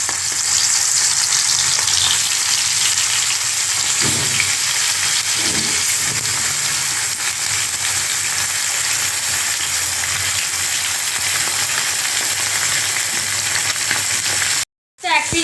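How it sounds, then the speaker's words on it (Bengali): Rupchand fish pieces fry in hot oil, a loud, continuous hissing sizzle close by with a few lower bubbling bursts, cutting out briefly near the end. "এখন আমি তেলের মধ্যে মাছগুলো দিয়ে ভেজে নিচ্ছি।"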